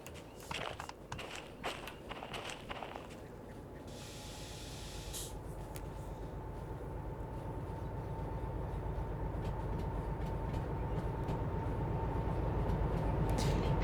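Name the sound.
heavy freight train running, video game Derail Valley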